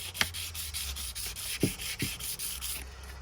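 Fine 600-grit sandpaper rubs back and forth over a repaired, super-glued motorcycle fork stanchion on an Aprilia RS4 125, steady close scratchy strokes with a few sharper taps.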